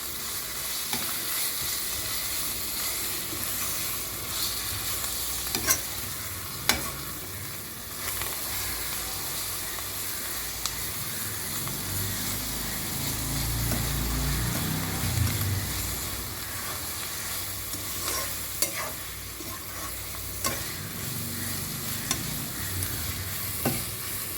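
Greens with coconut are stirred in a pan over a constant quiet sizzle and hiss. Scattered scrapes and taps of the spoon against the pan come at irregular moments, close up and with no voices.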